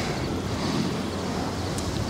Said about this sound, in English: it's a very windy day today